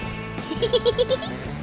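A water buffalo herd on a beach calls out, a run of about five nasal bleating calls in quick succession over a steady background hum, fairly close.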